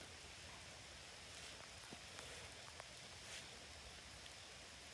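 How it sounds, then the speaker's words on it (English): A soft, gentle rain falls outdoors as a faint, even hiss, with a few scattered drop ticks and light rustling. "Well, we got a soft, gentle rain."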